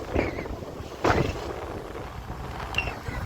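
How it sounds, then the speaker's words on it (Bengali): Strong wind at Baga beach buffeting the microphone in rough gusts, with louder bursts near the start and around the one-second mark, over a low steady rush of air. "এত হাওয়া দিচ্ছে গরমের মধ্যেও"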